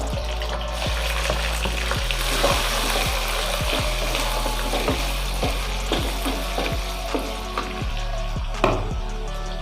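Onions and capsicum sizzle steadily in a hot pan for chicken shashlik, with loud continuous frying crackle and regular sharp knocks of a spoon stirring against the pan, no talking.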